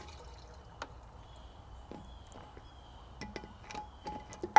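Engine flush liquid pours and trickles quietly into a BMW E46 M3 S54 engine, with occasional soft drips and light metallic clinks, fairly close and faint, no voices.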